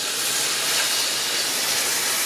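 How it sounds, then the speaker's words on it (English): Coconut milk poured gently into a hot casserole pan of spiced turmeric chicken, giving a steady, even hiss that holds for a couple of seconds with no voices. "I'm going to add the coconut milk"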